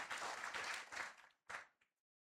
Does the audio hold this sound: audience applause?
yes